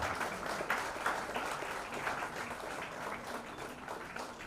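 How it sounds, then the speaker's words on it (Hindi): Crowd applause at a large annual public gathering in India, steady broadband clapping from many people at moderate loudness, holding fairly even throughout with faint voices underneath. "ये निवेदन है कि तालियों में कंजूसी ना करें।"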